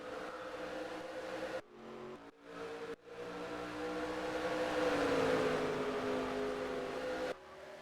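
NASCAR Cup race cars lap Phoenix Raceway in a steady engine drone with a rising pitch sweep as cars pass, interrupted by a few brief cuts to near-silence.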